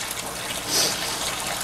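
Water drains from a home aquarium into a bucket, about eight gallons in all, as a steady, close gushing and splashing that swells briefly midway and then settles.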